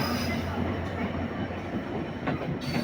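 A Benapole Express passenger train hauled by a brand-new American 66 series locomotive rumbles steadily throughout, a constant low rolling drone of coaches on the rails with a brief metallic rattle near the end.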